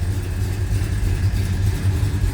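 A 1970 Dodge Super Bee with a 440 Six Pack V8 idles with a deep, steady, throaty exhaust rumble, close by and continuous, without any revving.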